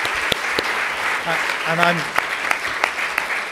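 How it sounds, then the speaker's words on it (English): Audience applause following speakers at a UK panel discussion event, a broad steady patter of clapping running throughout, with a brief voice speaking partway over it. "So give our speakers another round of applause, please."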